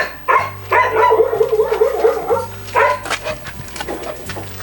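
Several dogs bark and yip in close, uneven bursts at a kennel block over a low steady hum, with a whimper here and there.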